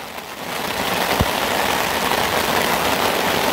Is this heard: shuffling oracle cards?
no